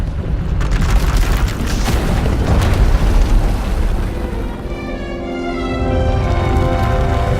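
Power erupting in a video game as a sustained, loud roaring blast, a dense rumbling wall of sound that swells and continues with a shimmering, wavering tail, with no talk.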